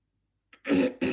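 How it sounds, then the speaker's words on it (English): After a moment of silence comes a brief throat clearing: a small catch, then two quick rough bursts, close and fairly loud. "I was needing to clear my throat"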